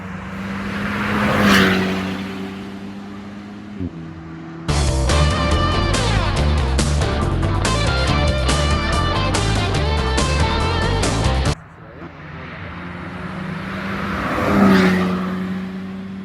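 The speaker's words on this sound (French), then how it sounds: "Les voitures ouvreuses." Rally opening cars race past on a stage road, two separate fast passes that swell loud and fade, one near the beginning and one near the end, with a stretch of music in between.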